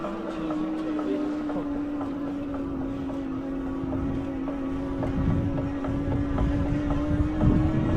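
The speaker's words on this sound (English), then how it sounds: "I'll let you listen to this motor through this next section" KBO Oasis electric cruiser bike rear hub motor under way at about 7 mph, a steady mid-pitched whine holding constant over rolling road and wind rumble, with faint passing clicks and no talk.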